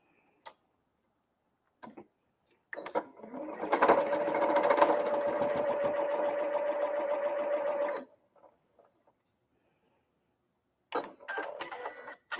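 Domestic sewing machine stitching quilt pieces with a quarter-inch seam, a fast steady whirring hum for about four seconds, close and clear, bracketed by small clicks and handling taps in a quiet room.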